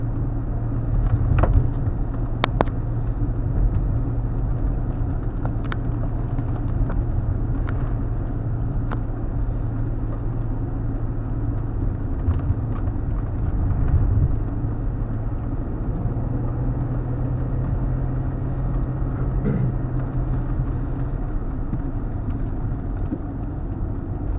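A car climbs the mountain pass road on Medvednica, its engine a steady low drone with road rumble heard from inside throughout, a few faint clicks and bumps over the top.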